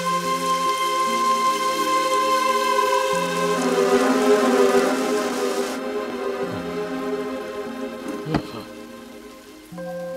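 Steady rain in a scene from a Hindi-dubbed Indian action film, a continuous hiss of falling drops running beneath sustained music tones for the whole stretch.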